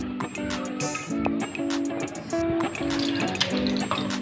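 Water drips and trickles out in short bursts as boiled cluster beans (guar) are squeezed by hand to remove excess water, close up and fairly quiet.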